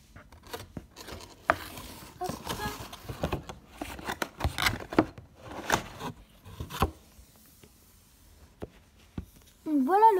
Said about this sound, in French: on va ouvrir le pack